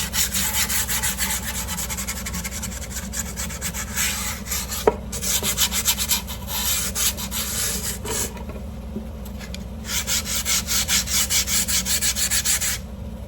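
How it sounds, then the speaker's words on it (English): Sandpaper rubbing down grip tape on a skateboard deck, a steady close scraping that runs in long continuous strokes with brief pauses between passes. "I low-key sanded that all the way down."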